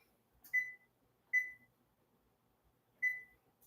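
An oven timer gives three short electronic beeps, two close together and one after a pause, in an otherwise quiet kitchen.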